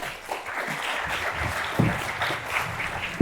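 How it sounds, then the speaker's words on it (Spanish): Audience applause at a round-table literary event, a fairly soft, steady patter of clapping from a seated crowd lasting about three seconds. "ahora te despedimos con un aplauso"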